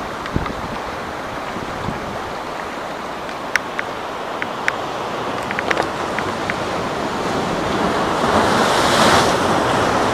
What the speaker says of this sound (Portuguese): Uau! O poder da água é incrível,